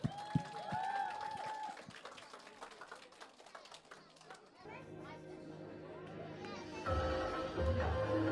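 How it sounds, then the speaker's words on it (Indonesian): An audience at a children's Christmas event claps for the kids, with broadband applause swelling in the second half while chatter and children's voices carry over it and speech appears at the start. "tepuk tangan dulu dong untuk teman-teman kita"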